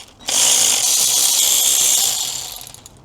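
Rusty nuts on a BMW E46 water pump being undone with a power tool, one continuous loud whirring burst of about two seconds with a ratcheting edge, close up, no talk.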